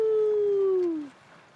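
A voice imitates a dog's howl during a children's storytelling session: one sustained, clear tone that bends slowly downward and fades out after about a second.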